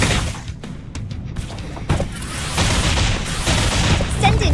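Gunshots and booming impacts from a battle in the game Reverse: 1999, a cluster of sharp bursts followed by rumbling blasts, with a voice briefly heard among the effects.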